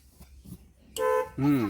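Two short Maruti Gypsy horn honks, close and loud, one right after the other following a moment of quiet murmur.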